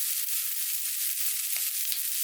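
Bacon, onion and pepper stir-fry in a pot for clam chowder, giving a steady, bright hiss of frying with a couple of soft scraping stirs near the end, close and continuous with no voices.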